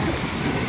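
Heavy rain pouring during a storm in Jamrud, Khyber Pakhtunkhwa, a dense, steady roar of falling water that fills the short stretch at constant loudness with no voices.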